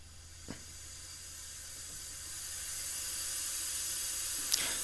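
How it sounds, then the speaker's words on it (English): Compressed air hisses through a Pollak 6-port selector valve, a quiet, steady hiss that slowly builds in strength, with a small click near the start and another near the end. "So I'm going to start the airflow here to demonstrate."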